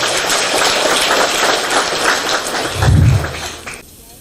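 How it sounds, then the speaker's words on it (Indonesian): Applause from an audience of about 250 people gathered to meet the Jakarta governor, a dense steady patter of clapping that swells briefly near the end and then drops away. "Tepuk tangan."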